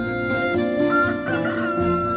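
A pitu de Calella rooster crows up close, a loud, drawn-out, harmonic call that rises and holds for most of the two seconds with no talk.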